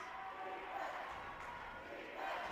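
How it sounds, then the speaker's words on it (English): Spectators at a high school boys basketball game between Troy and Fullerton chant together in the gym, a moderately distant, steady crowd roar with voices rising in waves. "Crowd chanting loud and proud"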